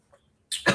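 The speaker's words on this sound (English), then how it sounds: "a bunch of pollen or something hit your throat and then you get to like coughing and choking" A single sharp, close cough bursts out after a near-silent moment, followed by a rougher second push like throat clearing, as from pollen caught in the throat.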